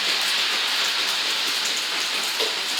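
Steady rain pours down at a countryside house, a dense, even hiss filling the whole stretch without pause, close and fairly loud, with no voices.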